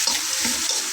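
Onions sizzling and frying in a pan after about a teaspoon of salt is added, a steady close crackling hiss with light stirring, no talk.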